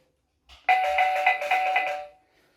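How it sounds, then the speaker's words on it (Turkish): A Multitek MB 41 intercom doorbell chime rings out for about a second and a half, a bright melodic ding-dong pattern, clear and close with no talking. "gördüğünüz gibi zil çaldı"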